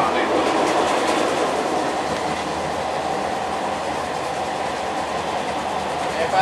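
A train runs along the Hyvinkää-Lohja railway in Finland with a steady, loud rolling rumble and faint clickety-clack of wheels on track, continuous from start to finish.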